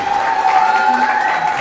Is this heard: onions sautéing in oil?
no